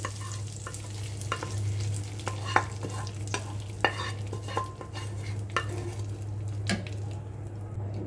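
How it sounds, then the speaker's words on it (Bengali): Hot tempering poured over cooked split chickpea dal sizzles and crackles steadily, with scattered sharp pops and spoon-like clinks over a constant low stove hum, no voices. "এখন আমি যে ডালটি রেডি করে রেখেছিলাম তার মধ্যে এই বাগারটি উপর থেকে ঢেলে দিচ্ছি"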